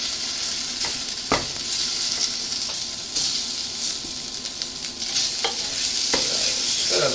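Chicken tikka being stirred in a hot pan, a loud steady sizzle and hiss with repeated scraping and clinking of the utensil against the pan, no voices.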